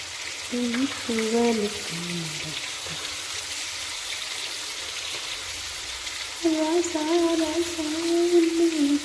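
Curry bubbles in a pot, a soft continuous spattering like light rain, while someone talks over it at intervals.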